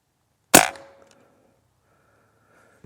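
A single sharp crack from a Beeman underlever .177 air rifle firing a heavy pellet outdoors, loud and sudden with a short ringing decay, followed by quiet.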